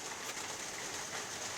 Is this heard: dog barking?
no